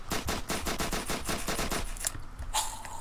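Rapid automatic gunfire from the zombie video game Apocalypse Rising rattles off in a fast even burst for about two seconds, then a few scattered single shots follow.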